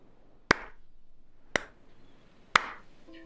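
A person imitates a slow golf clap with three sharp, close hand claps spaced about a second apart, each followed by a short room decay in an otherwise quiet space.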